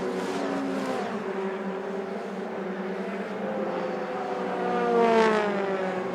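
Racing cars dropping downhill at Spa-Francorchamps during a 2016 race, engines whining at high revs in a continuous layered drone, swelling louder near the end as a car passes closer.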